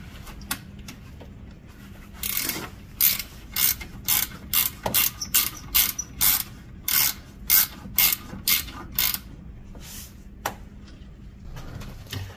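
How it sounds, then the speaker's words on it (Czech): A ratchet loosens the belt tensioner pulley on a Nissan Pathfinder engine, making a series of sharp, close clicks in quick bursts of about a dozen strokes, with short pauses and a few scattered taps around them. "Řemen sundáme tak, že povolíme tuhle napínací kladku."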